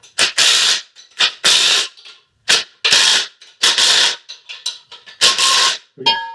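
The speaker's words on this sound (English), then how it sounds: "I'm going to give them a nice tight snug up here using the impact and a wrench" Impact wrench snugging bolts on a NEXO Fitness 3-tier dumbbell rack during assembly: a run of short, loud, close rattling bursts in quick succession, each a fraction of a second, with brief quiet gaps and no talking.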